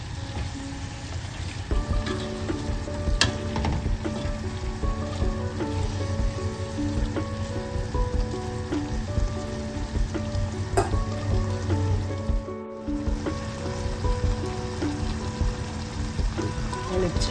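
Coconut oil with curry leaves sizzling and bubbling in a pan while cooking Kerala avial, a steady crackling fry with occasional sharp pops and faint utensil clinks, no talking.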